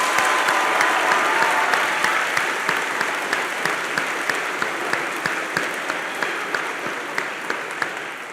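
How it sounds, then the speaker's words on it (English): Steady applause from a large graduation audience at a middle school ceremony, sustained dense clapping with a regular rhythm throughout, loud and close, fading slightly toward the end, no talk over it. "Big round of applause,"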